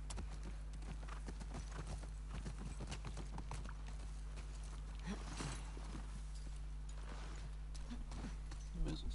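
Horse hooves clip-clop steadily through a ruined city in The Last of Us Part 2, a faint, even walking rhythm under low ambient rumble for the whole stretch.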